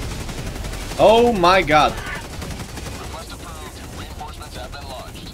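Rapid video-game gunfire from a Helldivers 2 battle against Automatons rattles steadily in the background while a player shouts in alarm over it.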